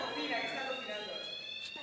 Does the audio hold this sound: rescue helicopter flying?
no